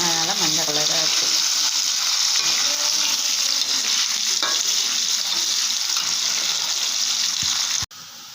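Sliced nendran banana chips, soaked in salt and turmeric water, fry loudly in hot oil. A continuous bubbling sizzle is stirred with clanks and splashes, then cuts off abruptly near the end.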